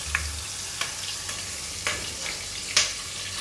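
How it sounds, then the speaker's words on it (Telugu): Biryani masala paste frying in a pan, giving a soft continuous sizzle broken by a few sharp spatula scrapes and pops. "సో ఈ పేస్ట్ని ఫస్ట్ ఫ్రై చేస్తామన్నమాట"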